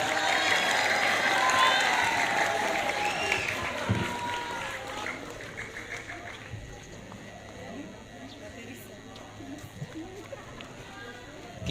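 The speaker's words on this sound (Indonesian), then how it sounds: "Berikan tepuk tangan yang lebih meriah." A crowd applauds at the grand final of an Islamic book-reading competition in Lampung, Indonesia, the clapping loud at first and gradually thinning out over several seconds, with a murmur of voices underneath.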